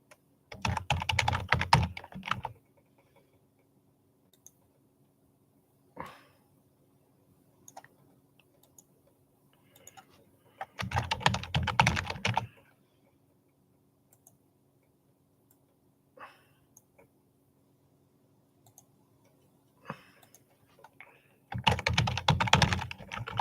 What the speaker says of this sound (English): I'm just fucking typing like a broken record player here